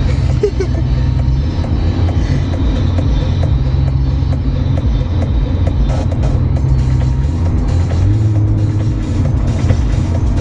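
A Nissan GT-R accelerates hard, its engine a dense, continuous low roar heard from inside the car, the pitch shifting slightly as it pulls, steady and loud throughout with faint talk beneath.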